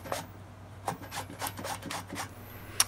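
Radishes rubbed across a Cuisipro four-sided grater give a string of short, dry rasping strokes, steady and close, with one sharper scrape at the end.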